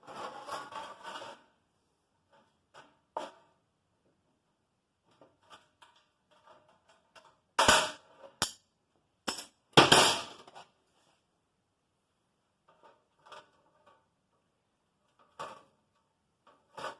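Decades-old Craftsman aviation snips cut through sheet metal in a tight cluster of sharp, crunching metallic snips near the middle, with faint taps and handling noises scattered around them and no talking.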